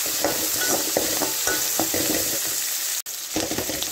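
Sliced okra and asafoetida sizzle in hot ghee for sambar while a spatula scrapes and stirs in quick repeated strokes. A sharp knock cuts through near the end.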